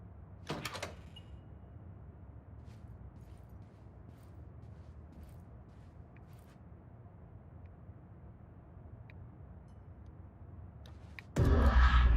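A door in the video game Control gives a short clunk early on. A long, quiet, humming stretch follows, and a heavy rumbling surge of the door opening ends the stretch.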